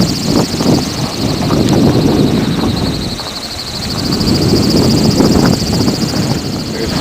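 At night in lower winds, a Slurpie 104 homemade wind turbine spins its propeller and powers some LED lights. A constant airy whoosh and wind rumble surge and ease, with a steady high whine running above them.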